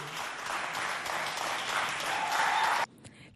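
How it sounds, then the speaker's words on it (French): An audience at a community poetry event applauds to welcome a poet: steady, dense clapping from a sizable crowd that stops abruptly near the end, leaving near silence. "nous accueillons sous vos applaudissements Nyemadim Sainte Union"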